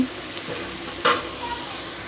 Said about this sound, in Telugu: మనం ఇప్పుడు ఉల్లిపాయ వేగుతుంది ఉల్లిపాయ చూసారు బాగా అవ్వాలి